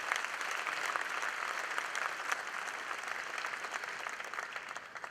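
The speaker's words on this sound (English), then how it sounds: "Let's give one more huge round of applause to all of tonight's award winners." A banquet audience at a Thibodaux Chamber awards dinner applauds steadily, dense clapping holding even for about five seconds without a break.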